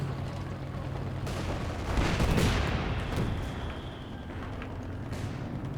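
Howitzer artillery fire in the real-time strategy game Company of Heroes 2, a 3v3 battle: a broad, rumbling blast swells through the middle of the clip over a continuous layer of distant battle noise, with no speech.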